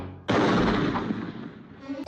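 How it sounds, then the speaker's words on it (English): A gunshot from the Bambi film scene: one sudden loud blast followed by a long, rolling echo that fades out over about two seconds. "that horrifically violent scene from Bambi where you hear a gunshot"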